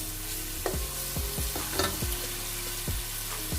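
Pasta ingredients frying in a pan toward a light golden colour, a loud constant sizzle broken by repeated rhythmic spatula scrapes and knocks against the pan, close up, with no talking.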